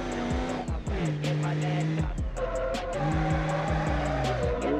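Diesel pickup truck drifting in BeamNG.Drive, engine revving up and down in repeated surges with sustained tire squeal layered over a steady rumble, loud and close throughout.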